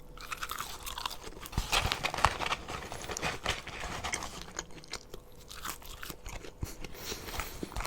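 McDonald's fries being eaten close up, with a steady run of soft crunching and wet chewing bites, fairly quiet and without talk.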